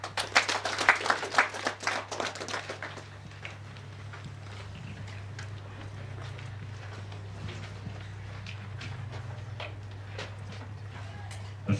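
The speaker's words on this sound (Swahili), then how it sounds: "Naomba tena tumpashie makofi mfadhili wetu" Audience applause for the sponsor at a hospital event bursts out loudly at first, then thins to scattered claps over a low hum as someone speaks over it.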